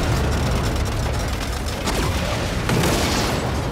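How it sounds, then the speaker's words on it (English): Explosions from a falling VTOL in the video game Saints Row, a continuous loud roar of booms and blasts with no break, occasional sharper bangs rising out of the rumble. "That falling VTOL must have hit something important. I'm seeing explosions all over."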